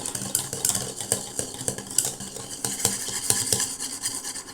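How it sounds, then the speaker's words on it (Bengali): Chocolate cake ingredients are mixed in a bowl, a soft, quick series of utensil taps and scrapes against the bowl, close but fairly quiet and steady throughout. "তো অবশ্যই ভালো করে মিশিয়ে নেবেন।"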